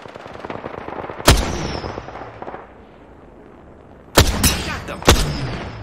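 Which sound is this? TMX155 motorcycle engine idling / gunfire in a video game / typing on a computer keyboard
gunfire in a video game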